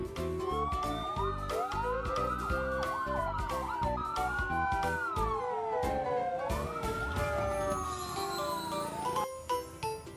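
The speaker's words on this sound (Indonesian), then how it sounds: "ini mobil truk pemadam kebakaran" A fire truck siren wails in loud, continuous rising and falling sweeps, with a tinkling jingle layered over the steady tone.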